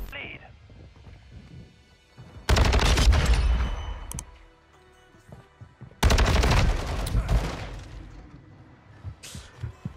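STB 556 rifle fire in Modern Warfare 2 gameplay: two loud, rapid automatic bursts of gunfire, each a couple of seconds long, separated by quieter game sounds, with a player talking over parts of it.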